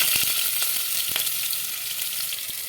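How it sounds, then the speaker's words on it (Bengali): Chopped onions fry in hot oil with cumin and cardamom, a steady close sizzle with occasional sharp pops and stirring taps over it, no voices. "তেল গরম হয়ে গেছে আমি অল্প জিরে আর দুটো এলাচ দিয়ে দেবো এবার কুচিয়ে রাখা পেঁয়াজগুলো দিয়ে দেবো"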